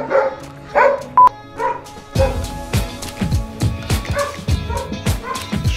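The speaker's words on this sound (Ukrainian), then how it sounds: "Пси гавкають." Several dogs bark close by in loud, irregular bursts, with yips and short whimpers mixed in, and a voice is heard early on.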